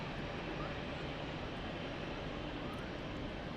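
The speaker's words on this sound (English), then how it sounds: "Let's have a quick look at this plane coming out here though, real quick." An airplane taxis or rolls at Zurich Airport, heard as a steady, faint, distant engine roar that fills the whole stretch without much change.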